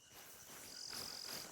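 A frog calls in the hunting game theHunter: Call of the Wild, a thin, steady high tone that holds for under a second like a dead dial tone, over a soft, hissing chorus of nighttime insects.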